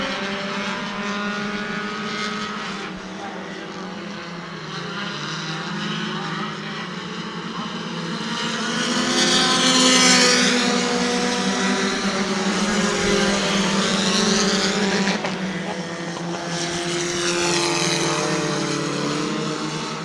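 Bomber-class race cars roar continuously around New Smyrna Speedway, engine drone swelling as cars pass close, with a race commentator talking over the noise throughout.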